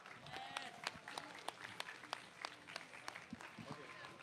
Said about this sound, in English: shall we give them one more round of applause?